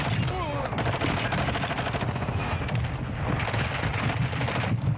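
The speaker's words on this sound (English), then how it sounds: "Shooting literal missiles." Missiles firing in a video game, a dense stream of rapid explosive shots and booms layered over continuous game noise, loud and busy for the whole stretch.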